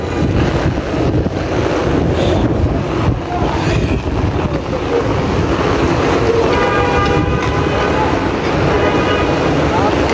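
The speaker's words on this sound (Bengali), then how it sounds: "আর এই লাইনটি দিয়ে ঝুঁকি নিয়ে ট্রেন চলাচল করছে" A train runs fast along a flooded railway line in the capital during heavy rain from Cyclone Remal, with a constant heavy rumble, strong wind buffeting and a brief horn-like tone partway through.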